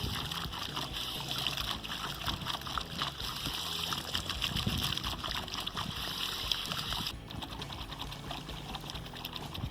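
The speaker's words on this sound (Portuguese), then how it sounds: "Nossa bomba está funcionando e a água já começou a subir lá para o balde" A hydraulic ram water pump works without electricity, fed by a half-inch garden hose, with a rapid rhythmic knocking under a constant trickle and splash of flowing water, moderately close.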